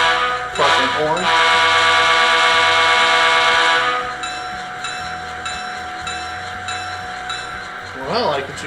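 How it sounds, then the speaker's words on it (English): A Soundtraxx sound decoder in a P2K SD7 model diesel locomotive plays a loud, steady ringing crossing bell for several seconds, followed by shorter horn blasts near the end, reproduced close through a small speaker. "Crossing bell. Crossing horn."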